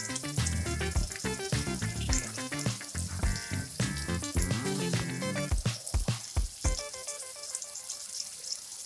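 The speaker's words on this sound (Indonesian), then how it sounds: "Kita tambahkan air mendidih sedikit demi sedikit" Loud continuous sizzling and hissing as boiling water is poured into a hot pan of beef rendang, a crackling, bubbling rush that holds steady and then thins out toward the end.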